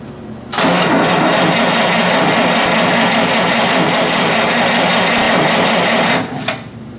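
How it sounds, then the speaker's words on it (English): The engine of a Buick Roadmaster cranks over steadily during a compression test. It comes in abruptly and holds a loud, even churn for about six seconds before stopping, with no voices over it. "let's go ahead and crank it here and see what happens here on the dial"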